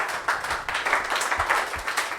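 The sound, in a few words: audience applause for students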